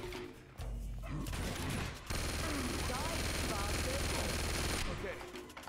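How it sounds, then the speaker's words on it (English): Sustained rapid automatic fire from a Gatling gun in Uncharted 2, a dense continuous roar lasting several seconds with game effects and faint talk in the mix. "You might not want to be right in front of a Gatling gun"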